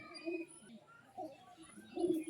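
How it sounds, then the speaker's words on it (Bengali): Madras Girbaz pigeons, an imported fancy breed kept by a village owner, coo in soft low bursts close by, with voices talking faintly in the background. "মামার কিছু বিদেশি ম্যাড্রাস গিরবাজ কবিতর আছে"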